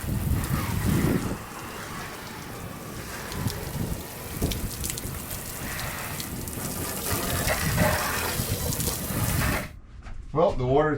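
A hose sprays water over the sliding door window of a Sprinter camper van, giving a steady, dense hiss and patter that cuts off near the end, where a brief voice follows.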